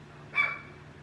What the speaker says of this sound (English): Jordan, go see what he barking about.